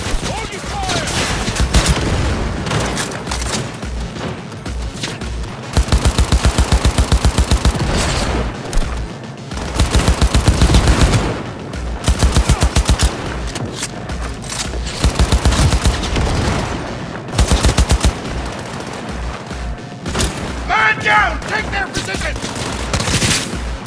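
Cyberpunk 2077 combat brings repeated bursts of automatic gunfire, loud and close, in rapid strings separated by short pauses, with voices shouting over the shooting.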